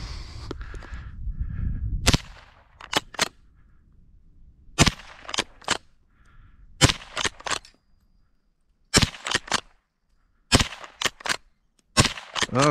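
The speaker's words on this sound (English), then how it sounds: "let's go ahead and finish off by shooting some steel" Sharp cracks from a Winchester 62a rifle, outdoors, with shots at steel targets, come singly and in quick pairs and triplets separated by silent gaps, loud and close.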